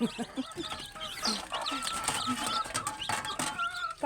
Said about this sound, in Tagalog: Malaking manok yun